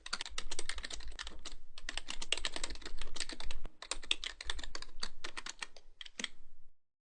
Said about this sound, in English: and then type your message